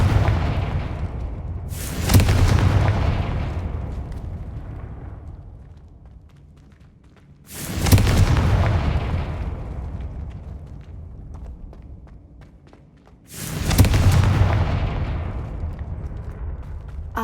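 Three heavy booming blasts from the Confringo fire spell in Hogwarts Legacy, each a sharp loud burst trailing into a long rumbling decay, spaced about six seconds apart with no talk.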